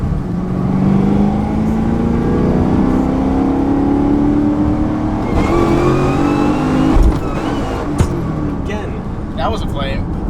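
A car engine with an exhaust leak revs and drones loudly, pitch rising and dropping, with a few sharp crackles and flames from the exhaust; people talk over it.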